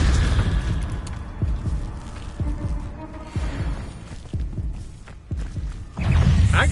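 Hogwarts Legacy dueling combat with a burst of Expelliarmus spellcasting: a run of sharp magical booms and thumps lands in irregular succession over a low rumbling background, punchy and close.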